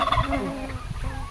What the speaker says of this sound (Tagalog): Maingay yung pabo